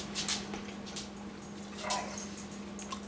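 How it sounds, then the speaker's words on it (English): Dogs under a dinner table whimper and give soft yips while hoping for rotisserie beef, with faint intermittent cries over a steady low household hum. "Dogs underneath hoping for more."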